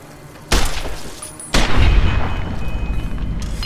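Two heavy gunshots boom about a second apart in Fallout: New Vegas during VATS targeting, each loud and sudden, followed by a rumbling, echoing tail with no voices.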